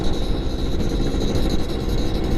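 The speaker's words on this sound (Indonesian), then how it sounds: "Suaranya juga kayak motor Bravo" A Yamaha F1ZR two-stroke motorcycle engine revs loud and close, a dense continuous raspy roar with a steady high whine running through it for the whole stretch.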